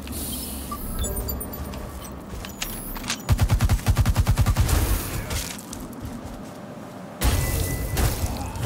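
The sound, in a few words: gunfire in The Surge 2 video game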